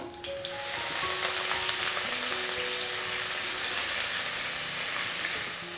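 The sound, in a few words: chopped bathua greens and green chilli sautéing in a pan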